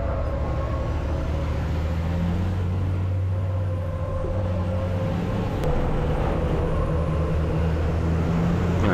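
Racing car accelerating onboard at Nogaro circuit after a red-flag restart, a loud continuous engine drone with steady harmonics close to the microphone, rising slightly toward the end, no talk.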